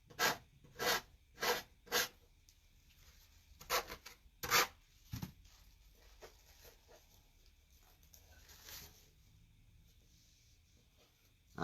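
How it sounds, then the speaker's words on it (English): Sanding block rubbed over a Dollar Tree valentine heart in short rasping strokes, about seven distinct scrapes in bursts up close, then quieter scuffing and faint handling. "I got another sanding block here"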